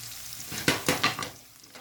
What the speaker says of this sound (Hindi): तो इसको हम सौते करते हैं, थोड़ा सा ज़्यादा नहीं हमने गोल्डन करना।